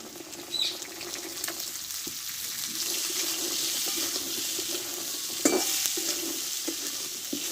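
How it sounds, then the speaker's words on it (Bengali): Shelled peas stirred in a hot oiled pan for a vegetarian potato-and-pea dish, giving a steady close sizzle with scraping spoon strokes throughout. "মটরশুঁটিটা দিয়ে আমি এইভাবে কিছুক্ষণ আমি নাড়তে থাকবো"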